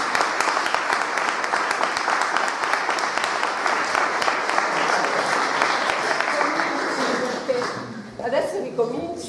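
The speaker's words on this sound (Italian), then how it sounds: "è arrivata Costanza, un applauso" An audience bursts into sustained, dense applause for someone arriving on stage, loud and continuous for several seconds before thinning out as voices emerge near the end.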